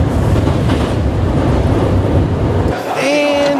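A subway train runs toward Osaka Station with loud, continuous rumbling and rail clatter inside the car, easing toward the end as a brief tonal squeal or chime rises over it.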